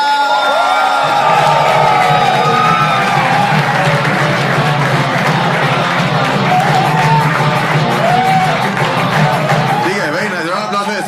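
A loud comedy show audience cheers, whoops and claps continuously as performers are welcomed on stage, with shouting voices rising over sustained applause and the roar easing slightly near the end.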